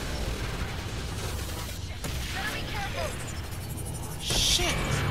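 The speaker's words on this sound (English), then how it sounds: "So much explosions going on." Explosions and gunfire from a chaotic video game battle form a dense, continuous roar of blasts and shots. A louder burst of noise erupts near the end.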